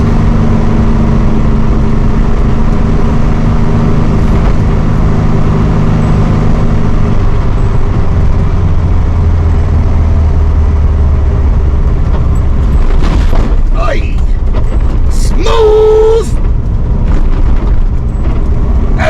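A 1964 VW Beetle with a 1600cc engine driving in second gear, its steady low engine drone and rumble continuing close by throughout, with the throttle eased on and off and a few brief higher-pitched whines near the end.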